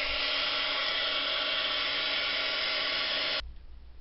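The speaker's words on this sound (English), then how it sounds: "I'm going to take my heat tool and see if I can dry them" A heat tool blows a steady, loud hiss close by while drying a handmade card, holding level for over three seconds before abruptly switching off, leaving faint room noise.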